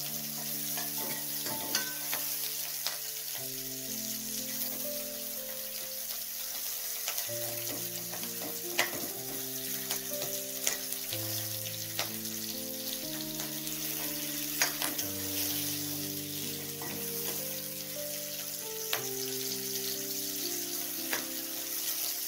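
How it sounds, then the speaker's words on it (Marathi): Onions frying in a pan for paneer masala, a continuous even sizzle running throughout, with occasional faint clinks under a steady melodic music track and no talk. "कांदा हा लालसर भाजायचा, जास्त नाही काळा करायचा, लालसर तांबूस रंग येईपर्यंत त्याला फ्राय करायचा"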